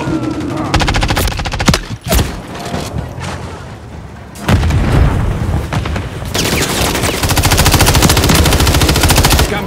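Machine guns fire loud, rapid bursts in Call of Duty: Modern Warfare III on the Rust map. The close gunfire comes in several volleys broken by short pauses and booming impacts, with voices talking over the combat.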